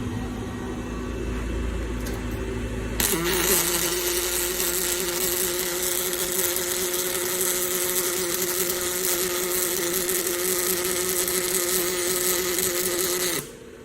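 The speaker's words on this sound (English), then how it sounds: "So let's see what this thing does when we weld it now" A Fanuc welding robot strikes an arc. A steady, crackling, humming drone starts abruptly and holds evenly for about ten seconds before cutting off, over a constant background machine hum.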